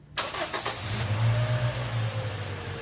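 A Toyota Innova engine cranks and catches after an oil change, spark plug and fuel filter service, then settles into a steady, loud idle close by, with no talk.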